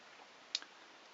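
A single sharp click from a button press on a Casio A158WA digital watch, quiet and close, with a faint second tick just after, against a low steady hiss.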